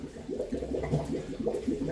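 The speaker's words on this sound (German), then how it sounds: "und dann befüllt sich der Filter wieder" A Fluval FX6 aquarium canister filter refilling with water after reconnection, a faint steady gurgling and bubbling flow with small irregular splashes, continuous and quiet.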